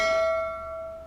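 A single bell-like chime rings once as a subscribe sound effect, a clear sustained tone that slowly fades over about a second, heard alone.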